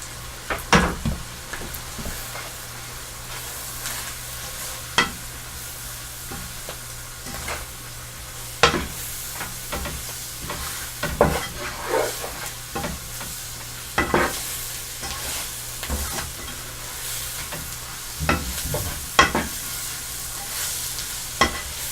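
A spoon repeatedly scrapes and taps a pan while flour and spices are stirred into mushroom gravy. Irregular close clinks run over a low steady hum and faint sizzle for about twenty seconds, with no voices.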